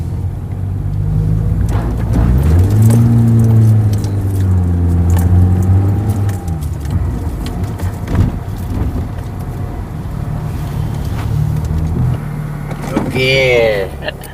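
A 2008 Toyota Altis idles just after starting, its engine hum steady but with a rough, stalling-prone idle that will not settle. Someone talks close by over the running engine.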